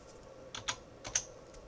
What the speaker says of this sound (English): start typing in the function